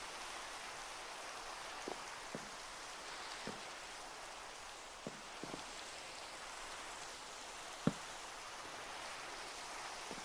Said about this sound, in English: Makes me feel all cold when it's raining in Minecraft